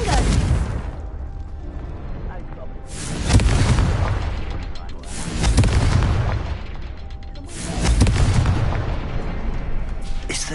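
Confringo explosive spells cast in a video game, three heavy booming blasts spaced about two and a half seconds apart, each swelling loud and rumbling away over a dense, crackling background din.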